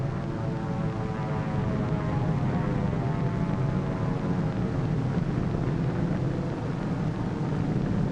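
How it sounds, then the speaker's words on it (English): A drone airplane flying over the target fleet after the atomic blast at Bikini, a continuous droning engine with a steady harmonic tone under broad rushing noise. "Here is one of the drone airplanes flying over the target fleet after the blast."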